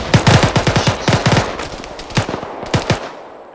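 Rapid bursts of automatic gunfire in ArmA 3 combat, loud and close, in several clusters of sharp shots with brief gaps, fading near the end.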